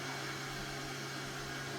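The warm-air dryer of a Toto Neorest NX1 bidet toilet blows with a steady, faint, even whoosh and a low hum throughout, with no voices.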